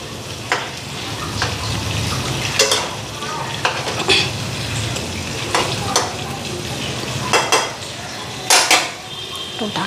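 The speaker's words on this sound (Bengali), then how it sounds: "গ্যাসটা কমাইয়া দিলাম। উল্টায়া পিল্টায়া দিই।" Fish turned over as it fries in a pan on a gas stove, with repeated scraping and clattering spatula strokes against the pan over a steady sizzle, close by and with no talk.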